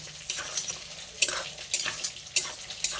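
Prawns and fish bones cooking in fish oil while the spices are stirred, giving a soft sizzle broken by repeated scraping stirs with a spatula, close and moderately loud.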